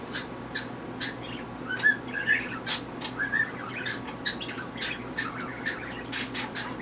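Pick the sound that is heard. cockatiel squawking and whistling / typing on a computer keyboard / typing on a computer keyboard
cockatiel squawking and whistling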